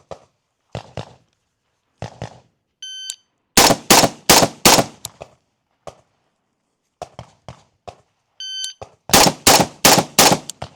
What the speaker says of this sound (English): So I'll shoot 2 rounds on each target